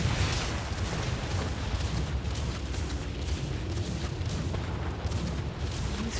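Cannon gunfire in World of Warcraft during the Gnome Heritage Armor quest: a dense, continuous barrage of heavy booms and rumbling blasts, loud and steady throughout with no pause or talk.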